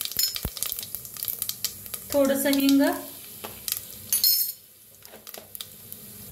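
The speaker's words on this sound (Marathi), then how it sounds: "त्याच्यात टाकूया 1 चमचा जिरं मोहरी चांगली तडतडू द्या" Cumin and mustard seeds, with a pinch of asafoetida, hit hot oil for masale bhaat, giving two short bursts of loud sizzling and popping, while someone speaks nearby and utensils clink.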